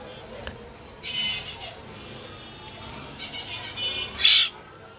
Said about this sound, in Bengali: দেখছেন ফাইন কিন্তু দুইটা ময়না পাখি